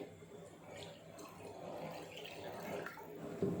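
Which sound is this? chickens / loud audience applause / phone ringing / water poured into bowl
water poured into bowl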